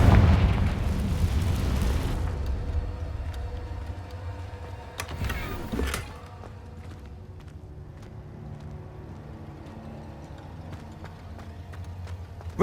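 Confringo blasting spell exploding in the Hogwarts video game: a loud, rumbling blast that decays over about two seconds, followed by a crackling burst near the middle and quieter game ambience.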